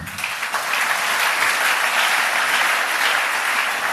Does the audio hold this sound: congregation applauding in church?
yes